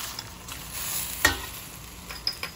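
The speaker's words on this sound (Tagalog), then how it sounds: "Ginisa ko na yung sili na yan." Chili being sautéed in a pan for adobong pusit, a soft steady sizzle with a few clinks and scrapes of stirring, one sharper knock near the middle, no talking.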